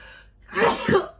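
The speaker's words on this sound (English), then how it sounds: "I can't sneeze normally, unfortunately." A single sharp sneeze bursts out after a brief sharp intake of breath, close and loud.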